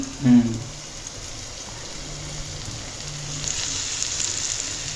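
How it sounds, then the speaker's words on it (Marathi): Prawns frying in a pan in a home kitchen give a steady, fairly quiet sizzle throughout, with a brief burst of a voice at the very start. "थोडीशी फ्राय करते हा फ्राय कोलंबी खूप छान लागते खायला"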